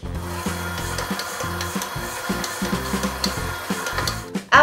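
Stand mixer on its stir setting working scallion pancake dough, a continuous motor hum with rhythmic thumping and rubbing as the dough turns in the bowl, close and alone.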